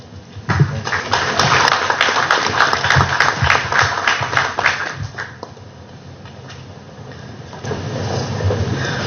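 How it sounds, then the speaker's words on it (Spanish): An audience at an international taxation and economics conference applauds to welcome a speaker, a loud, dense burst of clapping for about five seconds that then thins out and fades into quieter room noise. "a quien vamos a recibir con fuertes aplausos"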